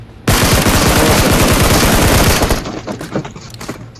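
Rapid video game gunfire in a multiplayer shooter, a loud sustained burst of automatic fire lasting about two seconds before breaking into scattered shots and fading.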